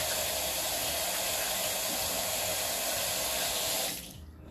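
Tap water runs hard into a sink as hands are washed, a loud, continuous close-up rush that cuts off abruptly near the end, leaving a faint trickle.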